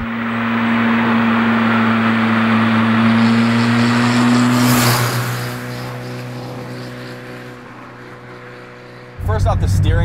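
A 40 HP VW Mk1 Golf diesel driving, its engine a steady loud drone with a strong low hum that eases off midway and then rises abruptly again near the end, heard from close range.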